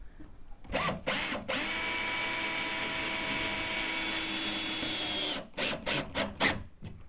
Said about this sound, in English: is the metal self-drilling anchor